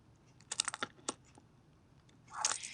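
Quick clusters of keystrokes on a computer keyboard while a folder name is typed, a flurry of clicks followed by a louder burst of keys near the end, close and alone with no voices.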